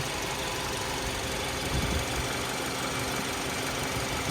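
A 2015 Hyundai Sonata Limited with a 4-cylinder engine idles steadily under an open hood, giving a close, even mechanical hum and whir with no talking.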